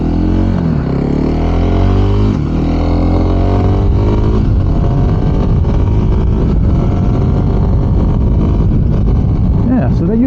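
Kawasaki KLX 300 SM motorcycle cruising at about 55 mph, its engine a steady loud drone with rising harmonic tones as it pulls through the gears, wind rush continuous throughout.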